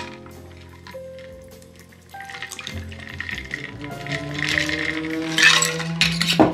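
A Mai Tai cocktail pours from a shaker into a glass, with ice clinking and rattling as the liquid splashes in more and more loudly toward the end.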